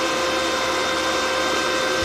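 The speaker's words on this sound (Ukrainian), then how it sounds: "Працює нормальний вентилятор." Steady, loud whirring of a Gerrard MMA 200 welding inverter's small cooling fan running continuously with a broad airy hum and no voices.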